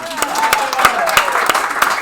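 Scattered hand claps from a small audience at a fall graduation ceremony, honoring a graduate, with sharp individual claps over a continuous murmur and voices talking underneath.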